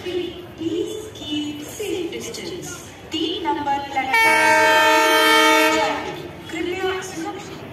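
A Lalgola train pulls into Kanchrapara railway station, sounding a loud sustained horn blast of about two seconds over station bustle, with people talking before and after.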